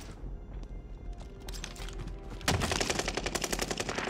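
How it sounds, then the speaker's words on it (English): Rapid gunfire during a Call of Duty Warzone match, quieter bursts at first, then a loud, fast automatic volley of sharp shots from about the midpoint onward, with no voices. "Where does this guy keep shooting from?"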